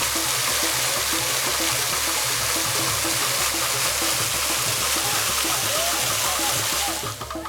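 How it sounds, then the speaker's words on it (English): Waterfall and stream flowing at Ogbunike cave, a loud, steady broadband rush of water heard close up, with a faint low rhythmic pulsing underneath and no talk. "Arriving at the cave and waterfalls, we experienced the wonderful formation and heritage background"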